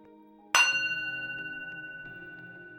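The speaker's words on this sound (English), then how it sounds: "This bowl makes a really cool bell-like sound." A singing bowl struck once, ringing out with a bright bell-like tone that lingers and slowly fades with a gentle wavering pulse, heard alone over near silence.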